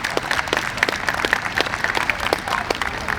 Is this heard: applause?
yes